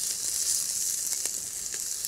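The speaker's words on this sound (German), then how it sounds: "Brate das Filet jetzt schön an." Pieces of fillet sear in hot oil in a wok, giving a continuous bright sizzle with faint crackles and pops, close and steady, with no talking.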